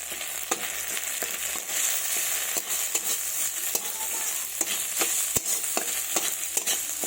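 Spices and sugar for a raw tamarind chutney fry in a pan with a continuous close sizzle, punctuated by sharp intermittent scrapes and taps of a spoon stirring, with no voices.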